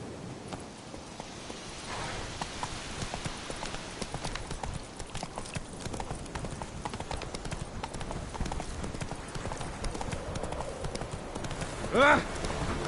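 Roach, the horse in The Witcher video game, pounds along in a quick, even clip-clop of hooves through the whole stretch, and a brief voiced exclamation breaks through near the end.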